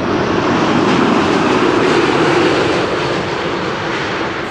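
A Cargolux cargo jet arriving from Nairobi, Kenya, roars loudly and close by, a dense, steady rush of engine noise that stays strong before tapering slightly toward the end.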